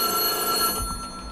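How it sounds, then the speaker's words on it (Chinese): A telephone rings in the Korean horror game White Day: A Labyrinth Named School, a loud, close electronic bell tone with steady ringing that cuts off partway through. "电话响了"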